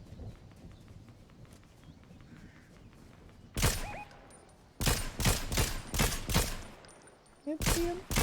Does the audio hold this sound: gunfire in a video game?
yes